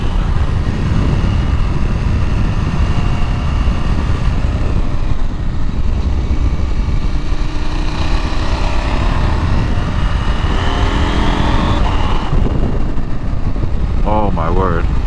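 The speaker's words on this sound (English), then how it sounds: "Like I'm riding it like a sport bike right now" A 2024 KTM 890 SMT motorcycle engine drones loudly and continuously while riding hard, sport-bike style, with wind rush and rising, falling revs throughout; a voice speaks briefly near the end.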